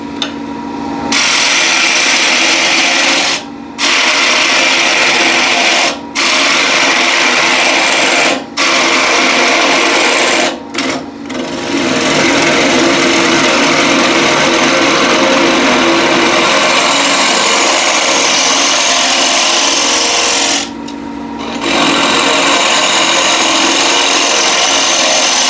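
A big wooden bowl spinning on a wood lathe under a cutting tool, loud and close: a continuous high whirring scrape with several brief breaks where the tool lifts off, then a long steady pass.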